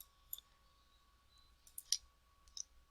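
A computer mouse clicks faintly and close up while someone works in CAD software, a few sharp isolated clicks scattered irregularly over a quiet background with a faint steady hum.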